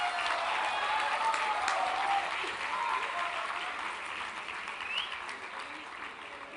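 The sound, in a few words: audience applause at a convocation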